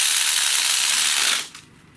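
A ratchet wrench clicks rapidly and loudly as it tightens bolts on a 2010 Chevy Equinox during a transmission replacement. The clicking runs continuously and close up, then stops abruptly.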